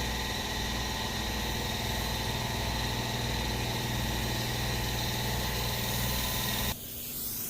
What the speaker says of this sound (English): let's let this compressor fill up for a second